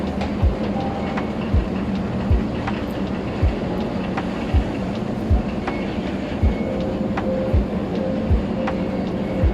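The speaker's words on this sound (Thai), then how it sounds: "ตอนนี้รถไฟฟ้า BTS ก็ได้มาถึงสถานีแล้วนะครับ" A BTS Skytrain in Bangkok rumbles steadily along the rails arriving at a station, with regular clickety-clack wheel thumps roughly every second, loud and close, with faint clatter above.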